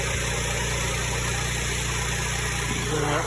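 A DuroMax XP1200EH tri-fuel generator runs on gasoline at a steady drone with a constant hum and tonal whine, loud and close, without talk.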